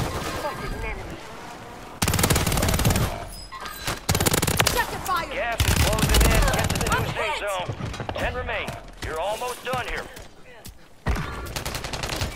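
Light machine gun fire in the Warzone 3 video game, loud sustained bursts of automatic shots in several stretches, with players talking over the gunfire throughout.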